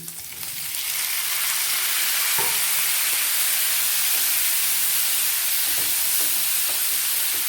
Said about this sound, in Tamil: இது எல்லாத்தையுமே ஓரளவுக்கு வதக்கிக்கிறணும்